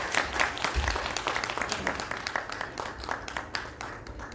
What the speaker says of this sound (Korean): 모든 분들 박수 부탁드리겠습니다.